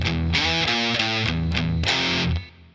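A heavily distorted electric guitar plays an intro riff, loud and close, with a run of chugging notes and a ringing final chord that fades abruptly.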